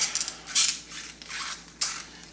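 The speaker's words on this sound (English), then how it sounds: "Thigh twist, again, very squeaky." Several short, high-pitched plastic squeaks and creaks come in quick bursts as the thigh joint of a Storm Collectibles Shao Kahn action figure is twisted back and forth, close up and alone.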